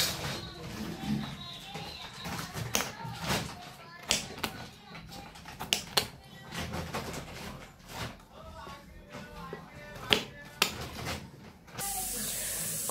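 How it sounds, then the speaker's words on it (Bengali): A knife chops through a bottle gourd (kodu) on a board in a home kitchen, giving a close run of irregular sharp taps and scrapes with brief pauses between cuts. "কদুটা দেখো কাটা হয়ে গেল"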